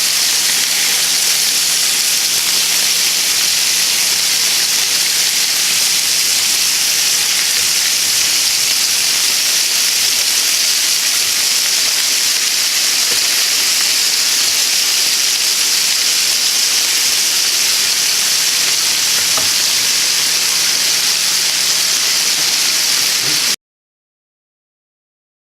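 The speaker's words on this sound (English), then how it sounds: "What that means is you're searing in the juices on the ground beef." Ground beef sliders sear on a hot cooking surface, giving a steady, loud, close sizzling hiss that runs unbroken for most of the clip and then cuts to silence, with no talking.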